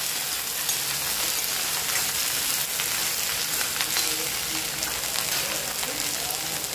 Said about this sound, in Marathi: आता यावरच मी लांबसर अशी कापून घेतलेली भेंडी टाकणार आहे आणि तेलावर छान अशी